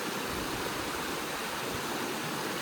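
A small village waterfall and stream in Konkan rushes steadily, a dense, even wash of flowing water filling the whole stretch at close range with no other sounds.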